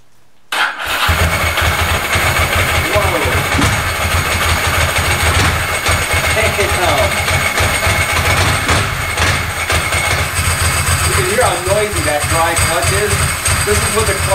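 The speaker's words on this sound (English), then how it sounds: "Let's connect up the fuel pump and the ignition and fire this baby up." Ducati ST4 motorcycle engine firing up for the first time in three years, a sudden catch after a short silence then a loud, rough, close idle with steady throbbing, and someone speaking over it.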